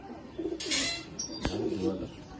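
Pigeons in a home loft in Bendel, Chinsurah, one a female, give low soft coos in short phrases at close range, mixed with brief rustling and a spoken voice in the background.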